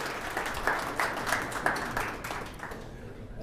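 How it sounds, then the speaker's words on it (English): A veterans' showcase audience in Denver gives a round of applause, a moderate wash of clapping from a mid-sized crowd with a few sharper individual claps, steady then tapering off. "round of applause for all these guys"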